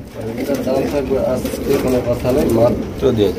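Pigeons coo in low, rolling calls at a pigeon farm, several birds close by under loud, continuous talking from a man.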